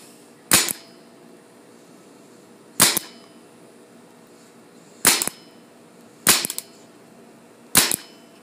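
A Tippmann 98 Custom paintball marker fires five sharp, loud shots at irregular intervals of roughly one to two seconds, each a crisp pop with a short tail, against a quiet outdoor background.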